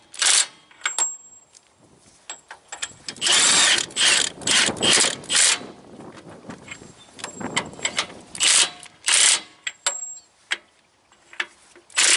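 Ratchet clicks from a 1/2-inch drive ratchet turning nuts on a three-axle semi trailer during S-cam replacement, coming in close, loud bursts of rapid clicking separated by short pauses, with no talk.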